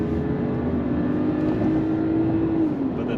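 Mercedes mild hybrid car engine, about 340 horsepower, accelerating through a gear, a steady droning hum with a slowly rising pitch heard from inside the cabin at moderate loudness.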